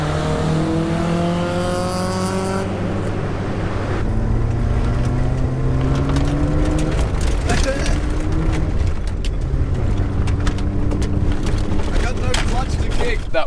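A Toyota KE70 with a 4AGE engine revving hard, its exhaust braps rising and falling in pitch as it accelerates, loud and close, with voices talking over it throughout.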